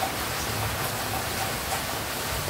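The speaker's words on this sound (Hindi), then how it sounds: "बहुत ही भयंकर बारिश हो रही है" Very heavy night-time rain during a cloudburst in Sujangarh pours down as a dense, unbroken hiss and patter, loud and close, with no talking.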